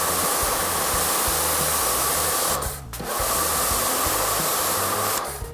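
Karcher pressure washer spraying through an MJJC short trigger gun while washing a car, a loud steady hiss held for several seconds with one brief dip midway, with no talking.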